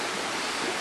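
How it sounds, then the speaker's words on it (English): A stream runs near a bridge along a long-distance hiking route, giving a steady, even rushing hiss of water throughout this brief moment, with no other sounds. "the sound you hear in the background, and I'll show it to you in a minute, is water"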